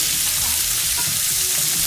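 Green beans sizzle and crackle steadily in bacon grease in a hot pan, a continuous frying hiss with no talking.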